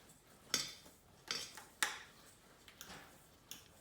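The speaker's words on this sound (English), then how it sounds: "I'm gonna pour this stuff in here, and while I pour it in, you kind of stir it around" Apple pie oatmeal cookie mixture being stirred in a bowl, with a few sharp utensil clinks against the bowl at irregular moments over quiet, soft scraping.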